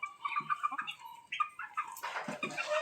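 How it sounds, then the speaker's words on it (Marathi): Desi chickens on a village poultry farm cluck in short, repeated bursts, close by. The calls come in uneven clusters and grow busier and louder toward the end. "ह्याच्यामध्ये बघा बहुतेक कोंबडे आहेत हे बघा"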